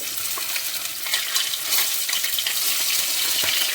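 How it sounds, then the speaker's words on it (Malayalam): Fenugreek seeds crackle in hot oil, a steady close hiss of sizzling with scattered small pops throughout and no voices. "ഉലുവ പൊട്ടിക്കുകയാണ്"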